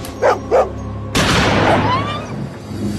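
Two sharp dog barks from an old dog in a movie scene, followed by a sudden loud burst of noise that fades slowly, with faint whistling tones.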